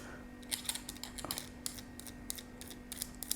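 Scratchy Conklin Mark Twain fountain pen nib dragged across paper, a run of short rasping strokes with a faint steady hum beneath, close and quiet.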